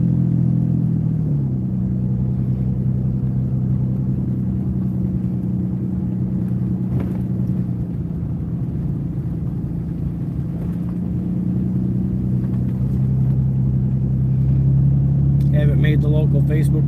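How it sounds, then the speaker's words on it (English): Cars roll past on a snowy street in Newberry at after-school peak traffic, a low continuous rumble of engines and tyres that swells and fades, while someone talks over it throughout. "Peak traffic here in Newberry's when school gets out."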